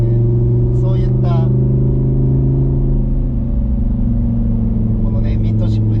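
A Lamborghini Huracán EVO Spyder's mid-mounted, high-revving naturally aspirated engine holds a loud, steady droning hum from inside the car on a winding road, with a few brief higher chirps at the start and end.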